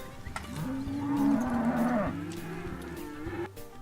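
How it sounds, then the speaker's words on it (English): Cattle on a South American working ranch moo in one long, loud, drawn-out call that bends downward, with quieter lowing and farm background around it. "In addition to sheep, the ranch has cattle"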